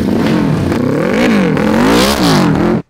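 A 550cc engine fitted into a Little Tikes toy car revs loud and close, its pitch rising and falling through several throttle pulls before cutting off abruptly at the end.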